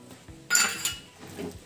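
Semiya kesari being stirred with cardamom powder in a pan: a couple of sharp metallic clinks of a spoon against the pan, then softer scraping, quiet and close.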